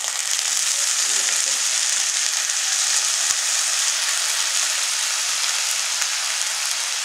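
Crushed garlic fries in hot oil in a pan with a steady, even sizzle that stays loud and unbroken throughout, without any voices.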